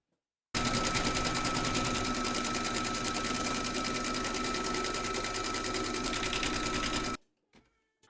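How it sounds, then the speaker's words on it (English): An embroidery machine stitches a placement outline on a hooped fabric, running as one continuous, even buzzing hum for about six and a half seconds, then cutting off abruptly, followed by a couple of faint clicks. "pop your hoop into your machine and stitch round number 1"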